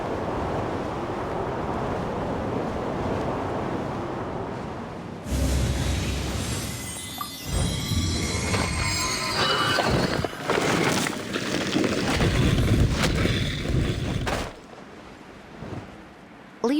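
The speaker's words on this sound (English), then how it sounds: "Let's ride this wind current," Rushing wind current in the Genshin Impact video game, a loud airy gust swelling in midway and roaring for several seconds before easing off, with short game effects over it.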